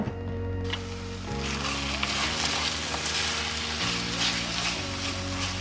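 Onion, ginger garlic paste and tomato sauté in a pan, giving a steady close hiss and sizzle with soft stirring scrapes over a constant low background hum.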